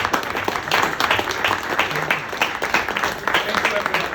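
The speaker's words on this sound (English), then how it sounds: "Clapping. Clapping." Audience applause fills a dinner speech at an international energy and AI workshop, steady dense clapping throughout with a murmur of voices mixed in.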